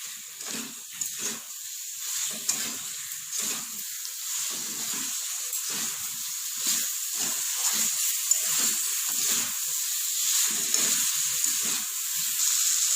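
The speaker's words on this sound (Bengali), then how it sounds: "এবার এর মধ্যে ভেজে রাখা আলুগুলো দিয়ে দেব। মশলার সাথে আলুগুলো ভালো করে মিশিয়ে নেব।" Fried potatoes stirred into sizzling masala for a no-onion, no-garlic vegetarian aloo dum: a steady close hiss of frying with repeated scraping stirs at an irregular rhythm, no voices.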